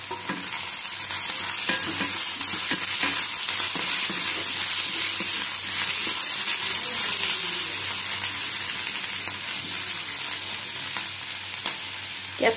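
Capsicum is stir-fried in a pan, with a loud, continuous sizzle and the clatter of stirring throughout. A faint watery hiss sits underneath and no one speaks.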